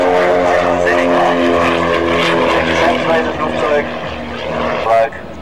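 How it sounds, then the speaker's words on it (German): A twin-engine propeller airplane taking off nearby at an airfield festival in Dessau, engines roaring loudly and steadily, a throbbing, droning hum with rising intensity toward the end. "Die nächste Maschine, die startet,"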